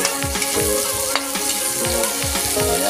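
Mansanitas hit a pan of frying chicken adobo, a steady close sizzle with repeated stirring knocks and scrapes throughout.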